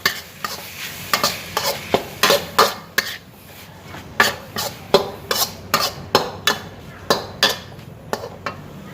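Beef stir-fried with southern Thai curry paste in a wok for khua kling: a steady rhythm of loud, close metal spatula scrapes and clanks, roughly two per second, over a constant sizzle.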